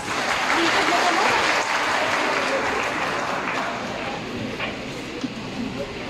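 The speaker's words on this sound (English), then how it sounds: "Let us give him a round of applause." Applause at a senior high school graduation ceremony: a dense crowd clapping steadily, loudest at the start and gradually thinning, with faint voices underneath.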